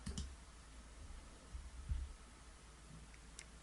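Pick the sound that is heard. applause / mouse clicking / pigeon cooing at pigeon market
mouse clicking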